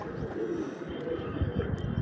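Black pigeons, including a Madrasi black pigeon, kept as a home flock; soft low cooing rumbles continue steadily throughout at close range.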